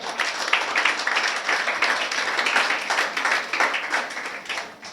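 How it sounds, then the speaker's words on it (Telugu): An audience at a church sermon claps together, a dense burst of applause that stays steady and loud for several seconds before tapering off. "కొట్ట మళ్ళీ చప్పట్లు ఒకసారి."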